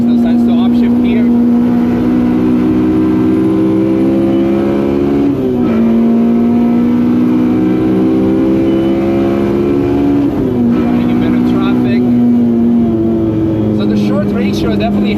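Honda Civic EJ1 with a swapped K20 engine accelerating hard on a Nürburgring lap, a loud in-car engine note climbing steadily in pitch through two quick upshifts.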